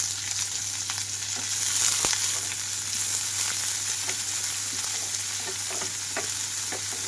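Onions and green chillies fry in hot oil with crackling tempering seeds for a broad bean stir-fry, a loud continuous sizzle with scattered pops and occasional scraping clicks of stirring.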